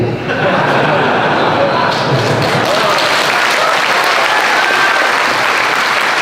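Audience applause during an Islamic religious lecture at an Islamic Center in Mataram, a dense, steady wash of clapping from a large crowd filling the hall, loud and sustained with a murmur of voices underneath.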